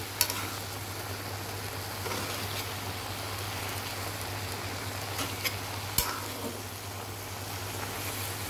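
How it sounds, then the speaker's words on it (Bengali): Koi fish cooking with Malabar spinach in a pan gives a steady soft sizzle and frying hiss with occasional stirring clinks, close by under a constant low hum. "আমি আমার জন্য পুঁই শাক দিয়ে কই মাছ দিয়ে রান্না করতেছি"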